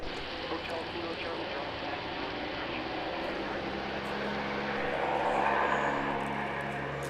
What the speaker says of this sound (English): The inner two propellers actually have reversing mechanisms, so they can actually go into beta and do reverse.